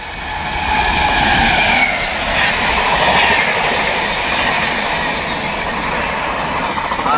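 The Sealdah Rajdhani Express rushes past close by, a loud continuous rolling roar with rapid wheel clatter that swells within the first second and stays strong to the end, with no talking.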